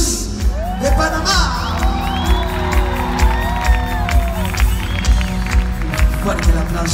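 Concert crowd at a live show in Mexico cheering, whooping and clapping for a Panamanian performer, a dense continuous roar of applause with shouts, while a voice speaks over it.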